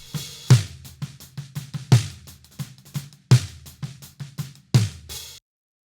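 Close-miked snare drum, top and bottom microphones blended, struck in a steady pattern of sharp hits with a few louder accents, each crack carrying bright sizzle over a trimmed low end, ending in a brief silence.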